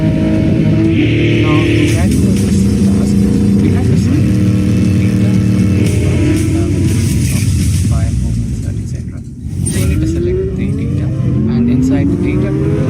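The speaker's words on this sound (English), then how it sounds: "This is the naturally aspirated benchmark, the engine to which all other NA motors answer to." A naturally aspirated race car engine screams at high RPM, loud and close, its pitch rising and falling through gear changes with one brief dip midway.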